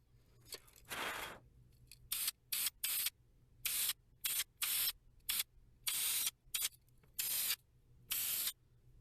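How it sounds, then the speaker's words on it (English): Aerosol spray paint on chipped car paint of a Ferrari replica, a series of short, close hissing bursts of varying length separated by brief silent gaps, with one longer spray near the start. "You just don't want to overspray"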